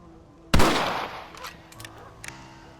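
A single loud rifle shot in Red Dead Redemption cracks out close by, then decays into a long echoing tail with a few faint clicks afterward.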